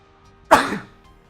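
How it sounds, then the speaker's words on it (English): A single sharp sneeze bursts out close by after a short quiet pause, then fades with a brief breathy tail into silence. "I gotta sneeze."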